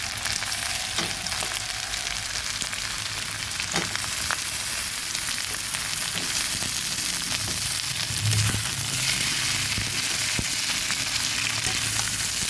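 Eggplant and pointed gourd go into hot oil with ginger and garlic. The pan gives a loud, continuous sizzle full of crackles and pops, with occasional stirring knocks.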